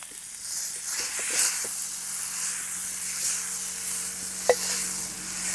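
Cooked eggplant is stirred into a spicy chili thecha in a pan, soft scraping and mixing over a low sizzle, one sharp tap near the end.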